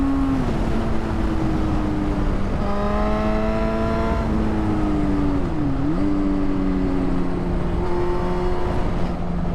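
A café racer motorcycle engine runs loudly and steadily at close range, its pitch shifting up and down with revs, with a brief dip in the middle.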